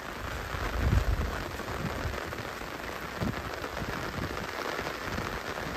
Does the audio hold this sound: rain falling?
yes